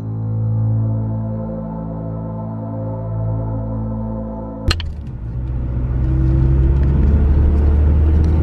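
A car cruises along a dark road at night with a steady engine hum, then a sharp knock gives way to a louder, rougher road rumble as it keeps driving.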